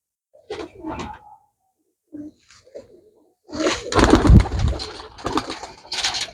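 Pigeons at a bird market stall for pigeon keepers coo in short bursts, then a louder, denser stretch of cooing and fluttering comes in close up near the end.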